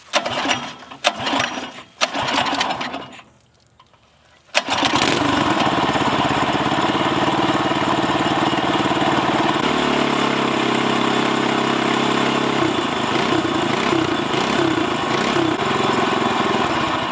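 A Thailand outboard motor pushed to high RPM gives a loud, continuous, steady engine roar, after some brief bumps and a short lull at the start, with a slight shift in tone partway through.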